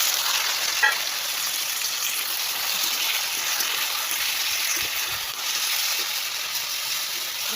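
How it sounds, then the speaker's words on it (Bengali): Eggplant goes into a hot pan of fried garlic and onion, giving a loud, steady, close-up sizzle with a faint stirring scrape and no talking. "রসুন আর পেঁয়াজটা ভাজা হয়ে গেছে, এবার বেগুনটা দিব"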